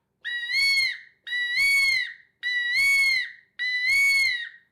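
A Ninja Hawk game call imitates a peacock with four loud, evenly spaced, shrill wailing cries that rise and then fall, each about a second long, sounding close and with no talking.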